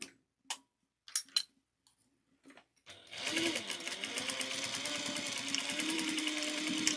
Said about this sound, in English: I like to sew off and back on